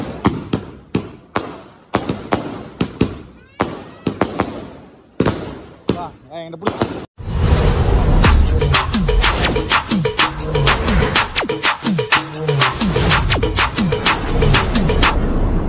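A 60-shot aerial firework shell cake from Sivakasi: a series of sharper, spaced pops and thuds, then rapid, loud booming bursts in a dense, continuous barrage.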